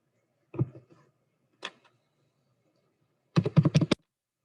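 Short bursts of typing on a computer keyboard while entering figures into accounting software, a few isolated keystrokes followed by a quick cluster of clicks, close and quiet.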